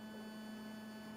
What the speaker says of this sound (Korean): 이거는 그 현장의 전자파장 소리예요